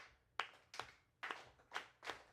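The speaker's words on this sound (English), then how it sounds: "Clap with me." An audience claps in unison along to a beat: five crisp group claps at an easy, steady pace, fairly soft and distant, with quiet room noise between them.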